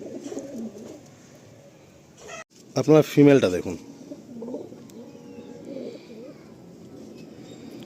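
Malwai pigeons cooing in soft, repeated low rolling calls close by, with someone talking over them partway through and a brief burst of louder fluttering noise.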